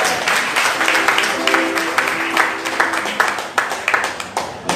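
A church congregation at an evangelical revival service claps and cheers together, a steady wash of applause with scattered sharper claps and a sustained held tone running beneath, no clear speech.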